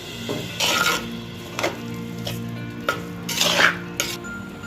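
A spoon scrapes and stirs thick tamarind, coconut and onion paste around a pan in repeated strokes, with soft sizzling underneath.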